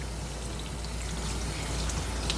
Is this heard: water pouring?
yes